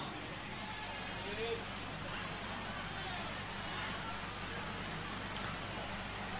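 Rain falls steadily during an outdoor religious gathering in Banjarnegara, a dense, even hiss that continues unbroken throughout with no speech.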